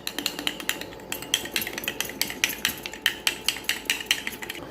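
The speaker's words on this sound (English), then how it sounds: "Now we are going to mix it so that no lump is left" A custard mixture is whisked with room-temperature milk to break up lumps, producing rapid, regular clinks of a utensil against the bowl in a close, steady rhythm, roughly two or three strokes per second, with no talking.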